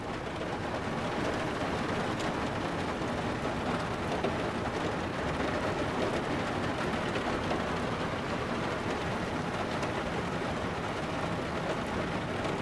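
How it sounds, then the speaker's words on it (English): Heavy storm rain outside a submarine in the World War II game UBOAT, a dense, constant roar with a low rumbling undertone, loud and unbroken throughout with no voices. "It's a storm or rain, I did not check really, but from the noise, it's not easy outside."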